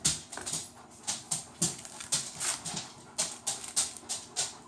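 A dog whimpers and pants in short, repeated bursts close by, hoping for a dropped scrap of food, with soft rhythmic whines and no talking.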